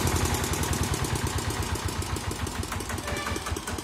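A tractor engine runs steadily at close range with a fast, even chugging pulse and mechanical clatter, continuing without a break and with no voices over it.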